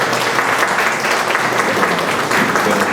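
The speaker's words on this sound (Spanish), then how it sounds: "lo vamos a recibir con un fuerte aplauso" Audience at a health-network talk breaks into loud, sustained applause welcoming a speaker, dense steady clapping filling the room throughout with no voices over it.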